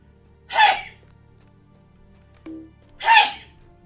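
Two sharp sneezes a couple of seconds apart, close and fairly loud, with a faint short noise between them over a quiet background.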